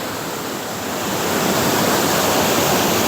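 A waterfall on Vancouver Island cascades down in a steady, broadband roar that swells during the first second and then holds loud and continuous, with no voices.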